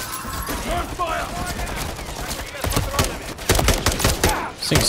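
Rapid bursts of automatic gunfire crackle through a Modern Warfare 3 mission in which civilians are gunned down, with sharp, dense volleys building toward the end. A voice talks over the shooting.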